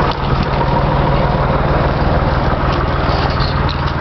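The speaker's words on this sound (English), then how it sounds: "that's it for the tractor start" A Massey Ferguson 240 tractor engine idles after a cold start in a steady, rhythmic low chug, loud and close, without pause for the whole stretch; no one speaks.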